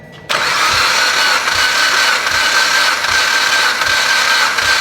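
A blown Harley-Davidson Evo engine cranks over steadily on the starter during a compression test, with a dead cylinder giving a flat, even whirring drone and no strong compression pulses, loud and continuous after a brief quiet start.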